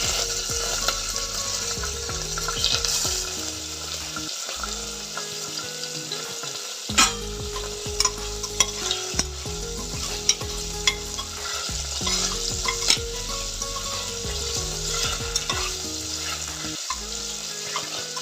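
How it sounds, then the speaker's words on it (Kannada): Cloves, cardamom, bay leaf and cumin sizzling in hot oil for tempering a tomato bath, a constant close crackle broken by sharp scrapes and clinks of a spoon stirring the pan, with no one speaking. "ಇದೆಲ್ಲ ಲವಂಗ, ಏಲಕ್ಕಿ ಮತ್ತು ಪಲಾವ್ ಎಲೆ ಸ್ವಲ್ಪ ಒಗ್ಗರಣೆಗೆ ಹಾಕಿದ್ದೀನಿ"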